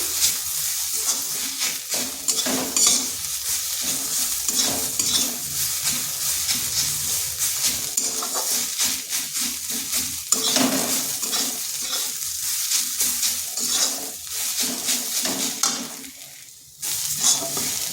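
Karela frying in a pan as turmeric, cumin, coriander and Kashmiri chilli powder are stirred through, a steady sizzle with scraping and stirring strokes continuing throughout, fairly close, with a brief dip near the end.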